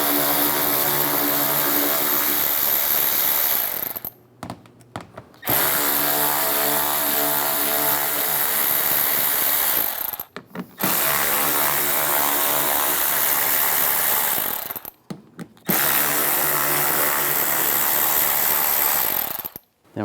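A power tool drives out bumper screws with a 5.5mm socket on a 2011-2019 Ford Explorer: four long, loud continuous whirring, ratcheting bursts separated by brief pauses.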